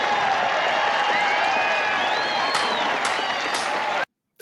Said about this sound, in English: The clapping, the whole bit.